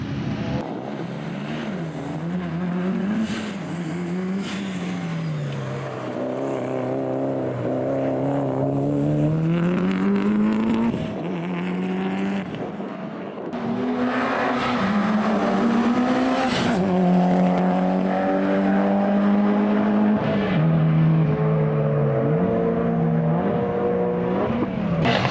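Tarmac rally cars race past on a closed road course near Perth, engines revving hard and rising and falling in pitch through gear changes, with tyre squeal as they brake and accelerate, loud and close throughout.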